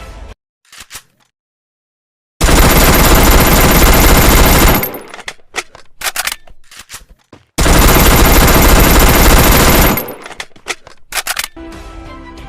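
Two bursts of automatic fire from UMP and Vector guns in the Free Fire battle royale game, each a loud dense stream lasting about two seconds, separated by quieter clicks and handling sounds, with no talk.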